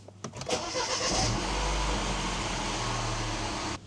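A turbocharged R56 Mini Cooper S JCW engine cranks and catches, flaring briefly before settling into a steady, smooth idle, close and loud, with no voices over it.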